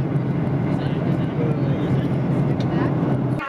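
Airplane in flight heard from inside the passenger cabin: a constant low engine drone and airflow hum, even and unbroken throughout, with faint higher tonal whine above it.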